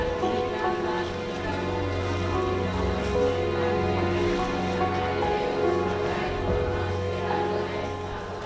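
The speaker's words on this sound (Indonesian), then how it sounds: "Berbaur dengan deburan ombak laut Flores" Waves of the Flores Sea wash ashore at Larantuka in a steady, continuous rushing surge that holds at an even level throughout, with faint tonal voices blended underneath.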